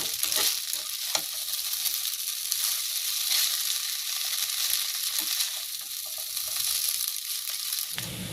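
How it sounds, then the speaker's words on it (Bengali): Vegetable noodles stirred in a frying pan, a steady broad sizzle of frying with scraping and stirring clatter throughout, close and continuous, no talking. "সুন্দর করে মিক্স করে নিচ্ছি। যেহেতু এটা সবজির নুডলস হচ্ছে"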